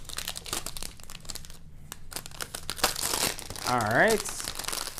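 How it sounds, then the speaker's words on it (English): Plastic wrap is pulled and peeled off a new Asus Transformer Prime keyboard dock, giving close, continuous crinkling and crackling with sharper tearing bursts, and someone briefly speaks over it. "Let's go ahead and pull off all the plastic."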